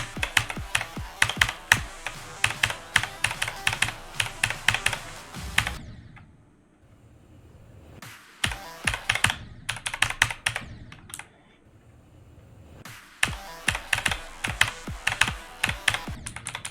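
Computer keyboard keys are hammered rapidly and rhythmically during a rhythm game, with three long bursts of crisp, close, loud clicks separated by brief quieter pauses; no talking.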